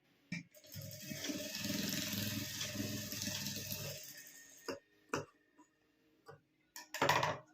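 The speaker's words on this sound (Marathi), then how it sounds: "तर अशी कोपऱ्याला टिपा मारून घेऊया तर बघा अशी आपल्याला पक्की टीप मारून घ्यायची आहे" A sewing machine stitches the corners of a homemade makeup pouch, running in a steady mechanical whirr for a few seconds, then giving short separate bursts and clicks as the corners are tacked.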